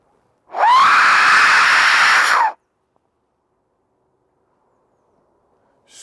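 A single shrill scream rings out for about two seconds, loud and piercing, at Castle Ring on Cannock Chase, with silence on both sides.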